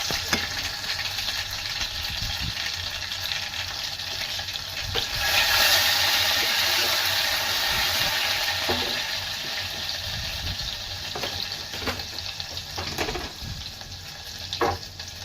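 Ginger garlic paste frying in oil in a pan, a loud, steady sizzle and crackle that swells partway through, with scattered spatters and stirring clicks later on.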